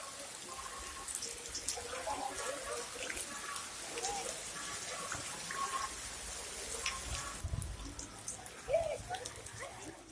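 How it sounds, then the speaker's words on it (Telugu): Heavy rain falling on waterlogged streets in Tirumala, a steady, fairly soft patter and wash of water with scattered drips, continuous throughout with no talking. "తిరుమలలో గంటన్నరపాటు ఎడతెరిపి లేకుండా కురిసిన వర్షంతో తిరుమాడ వీధులు జలమయమయ్యాయి"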